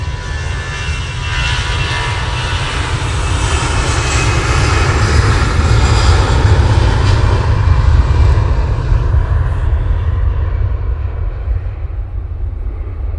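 An EasyJet airliner bound for Antalya powers down the runway on its takeoff roll, a loud, sustained engine roar with deep rumble holding steady for over ten seconds before easing slightly as it pulls away.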